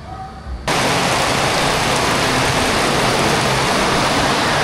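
Light drizzle falling at Amana Waterpark in Pandi, Bulacan, a dense steady hiss of rain and water that starts abruptly and holds even and loud to the end.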